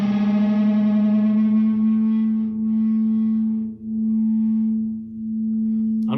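Guitar strings sounding together nearly in tune ring as a steady sustained tone whose loudness swells and dips in a very slow beating wave, three gentle dips over several seconds, alone with no voices.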